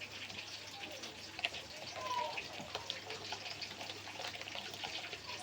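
Water draining off in a kitchen during pakora preparation, a continuous soft trickling and splashing that stays close and fairly quiet, with a few brief clinks.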